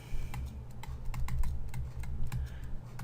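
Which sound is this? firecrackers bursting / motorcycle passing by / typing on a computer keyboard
typing on a computer keyboard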